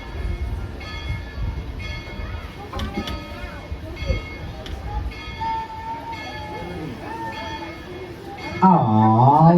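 A train at Tweetsie Railroad during a Day Out With Thomas event rumbles steadily with ringing bell-like tones and brief whistle-like pitches. Voices and crowd talk run underneath, growing louder near the end.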